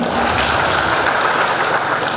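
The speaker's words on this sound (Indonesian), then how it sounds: "Tepuk tangan untuk lektornya." Congregation applauding in a Catholic church during a consecration service, a dense, loud, steady wash of clapping from many hands filling the space, with no pauses.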